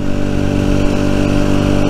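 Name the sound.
Rieju Century 125 motorcycle engine running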